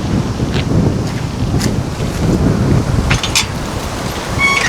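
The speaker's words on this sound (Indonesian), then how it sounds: "Duh, ini anginnya kenceng banget lur." Strong wind gusts through a Japanese village, a loud, steady roar and rumble buffeting the microphone for several seconds with a few faint higher clatters mixed in, and no one speaking.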